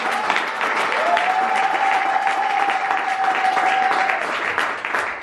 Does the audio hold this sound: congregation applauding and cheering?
yes